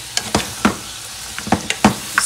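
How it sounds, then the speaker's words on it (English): Pieces of goat meat for curry hit a hot pot and sizzle loudly, with sharp bursts of crackling each time more is added and stirred, over a steady frying hiss. "I'm gonna add our meat in. I'm gonna give it a quick mix."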